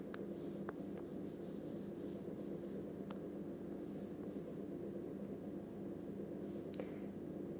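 Pen scratching on paper while a math exam solution is written out: a steady, faint scraping over a constant background hiss, with a few small taps, and no talking.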